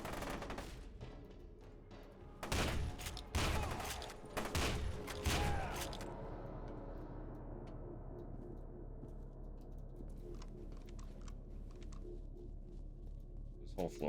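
Shotgun blasts in the horror game Voices in the Void, a handful of loud booming shots in quick succession early on, followed by a low rumbling ambience with faint clicks.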